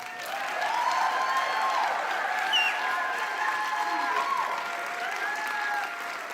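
Sustained applause from a church congregation, steady clapping that fills the whole stretch without letting up.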